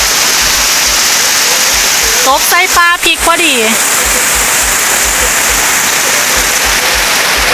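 Heavy first rain of the year pours steadily throughout, a continuous close hiss, while someone speaks briefly over it midway.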